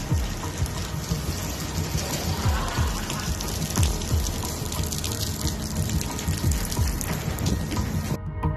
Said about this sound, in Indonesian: ini hujan di mobil ini doang ini